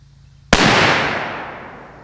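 A single suppressed shot from a 16-inch Ruger American rifle in 350 Legend, firing 145-grain Winchester white box ammunition through a YHM R9 suppressor: one sharp, loud crack followed by a long fading tail, with a faint lawnmower droning beforehand.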